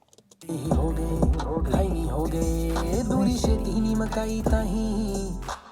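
Music with a filtered, distorted, formant-lowered vocal effect repeating once like a delay, sustained and loud over a dense backing throughout.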